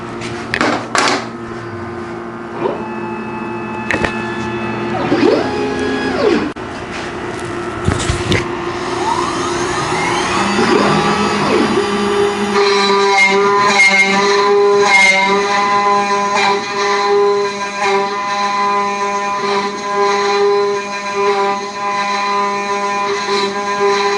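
A CNC machine carving a wooden trinket tray whines with shifting tonal motor pitches and sweeping spindle tones, steady and close, rising into a sustained buzzing cut with no talking.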